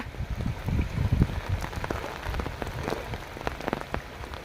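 Heavy rain pours down steadily over a village, a dense hiss with scattered drops pattering close by on a hard surface.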